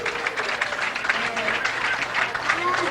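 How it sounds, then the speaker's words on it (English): Crowd applause and cheering at a professional bowling tournament in the Chicago area, the PBA Tournament of Champions semifinal, a steady noisy wash of clapping lasting about three seconds with no clear voices standing out. "Boy, great crowds all week long here in the Chicago area."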